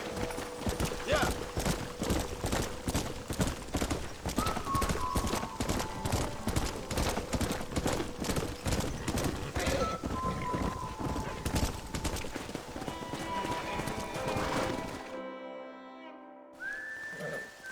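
A stallion's hooves clip-clop in Red Dead Redemption, a steady rapid rhythm of close, clear hoofbeats sustained for most of the stretch before cutting off, with a few faint whistles and chimes behind.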